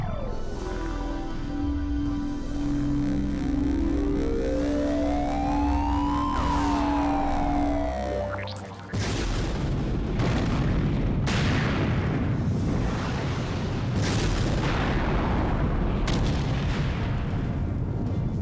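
Explosions in a Sonic Adventure 2 cutscene, first under a rising siren-like wail and tonal score, then a dense stretch of loud repeated booms and blasts that keeps going to the end.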